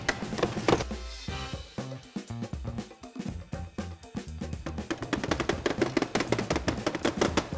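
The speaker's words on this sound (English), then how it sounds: "That move is not just for chopping, it actually breaks up the ice cream." Spatulas chop Thai rolled ice cream on a freezing plate, a rapid series of close, sharp metallic taps and scrapes, loose at first and then building into a fast, steady rhythm.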